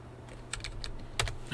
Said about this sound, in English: We can actually type something in here now.